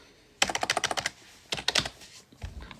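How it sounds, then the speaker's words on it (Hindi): Fingers tap on a computer keyboard in two quick bursts of crisp clicking keystrokes, close and moderately loud, followed by a few softer knocks, with no speech. "आज तो मैं टाइपिंग भी गलत ही कर रहा हूँ चीज़ें अभी।"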